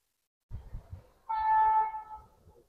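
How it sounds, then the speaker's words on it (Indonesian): An electric commuter train arriving from Yogyakarta and stopping at Delanggu station: low rumbling thuds, then a steady, fairly loud horn-like tone holding for about half a second before fading back into rumble. "kereta listrik dari arah Yogyakarta berhenti di stasiun"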